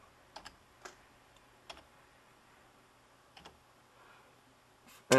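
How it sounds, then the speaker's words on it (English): Keystrokes on a Dell Latitude D610 laptop keyboard, sparse and quiet: a few scattered taps and short bursts spread over several seconds against a faint room hush, ending in a sharper louder clack. "we're going to type in our"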